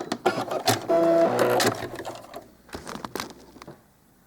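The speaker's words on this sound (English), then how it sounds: "I'm going to sew in the rough side of the Velcro" A sewing machine stitches the rough side of a Velcro strip onto doll pajamas, running in a loud, close burst of rapid needle clatter, then slowing into scattered clicks and handling noises.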